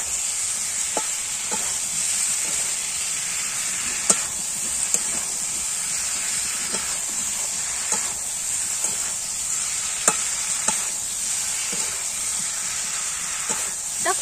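Cauliflower frying in a pan gives off a steady, loud sizzle and hiss after water is added, a continuous close roar with occasional faint spoon taps and no talking.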